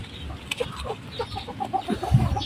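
Chickens cluck softly nearby in short, scattered bursts, with a few faint rustling sounds around them.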